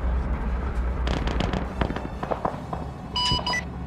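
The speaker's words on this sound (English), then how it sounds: "I believe that tank side of the airfield just got taken out by bombs." Bombs blow up a tank on the side of an airfield in a World War II armor and aircraft combat game, a cluster of sharp blasts and crackling booms over a constant rumble, followed by a brief electronic beeping.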